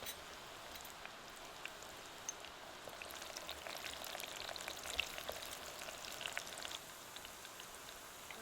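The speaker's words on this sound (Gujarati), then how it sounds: "આપણે તેલ ગરમ થઈ ગયું છે આ લહણના કટકા કર્યા ને નાખી દઈએ" Soft, even sizzle of garlic frying in hot oil, with faint crackles and a few sharper pops, quiet and close.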